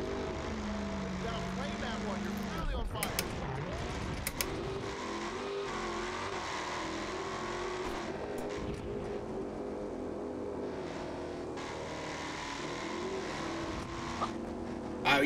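BeamNG.drive car with an overheating engine droning steadily at moderate level, pitch rising and falling as it revs, with a brief rattling clatter early on and a voice talking over it.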